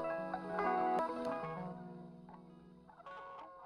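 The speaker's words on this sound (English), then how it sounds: "you can hear it kind of crunching there" Keyboard notes and chords with a gritty, crunchy distorted edge from an Octatrack MK2 with boosted signal, starting louder and fading down before a final quieter chord.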